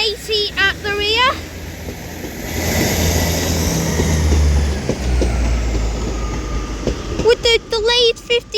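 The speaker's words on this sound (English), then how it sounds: "the 1543, delayed 1543 East Midlands Railway service to Norwich from Liverpool Lime Street with 158846 at the front" An East Midlands Railway diesel unit, 158846 leading with 158780 at the rear, on the delayed Liverpool Lime Street to Norwich service, rumbles steadily past at Manchester Piccadilly, a loud low drone in the middle, with talk before and after.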